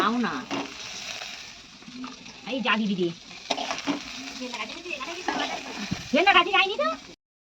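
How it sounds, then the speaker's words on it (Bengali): Yard-long beans frying with onion in a pan sizzle steadily while a spatula scrapes and stirs, and someone talks over the cooking the whole time. "তো এই দেখুন এখানে এখন বরবটিটা ভাজা হচ্ছে, আর প্রায় ভাজা হয়েই গেছে।"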